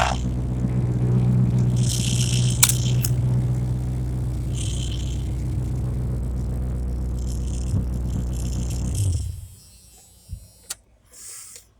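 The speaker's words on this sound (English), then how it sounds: "Might have cut the tailpipes off of it, but it sounds a hell of a lot better" A car engine with its tailpipes cut off idles with a loud, steady, deep rumble and raspy exhaust drone for about nine seconds, then shuts off, leaving near silence broken by a couple of faint knocks.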